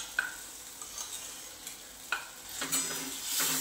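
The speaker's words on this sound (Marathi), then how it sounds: "आता हे परतून घ्यायचं।" Ground wet masala paste sautéing in a pan after turmeric, with soft scraping stir strokes and a light, low sizzle, fairly quiet and close, no talking.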